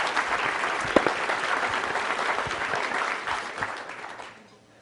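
An audience at a Palm Beach forum club luncheon claps to welcome Senator Bill Nelson, a dense, steady round of applause from a large crowd that fades out at the end.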